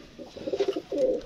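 Pigeons cooing close by, two short soft throaty coos in quick succession with no talking.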